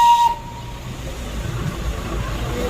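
Train passing along a small road route, heard as a rumbling, rising rail noise after a short whistle-like tone at the start, fairly close and continuous.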